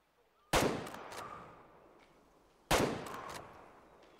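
Two hunting rifle shots in the video game Way of the Hunter, about two seconds apart, each a sharp loud crack followed by a long decaying echo, with no talk.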